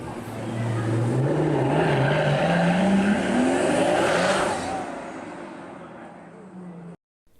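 A Pagani Huayra driven away hard by its test driver, the engine howling and climbing through the revs with a slight tire squeal before fading into the distance and cutting out.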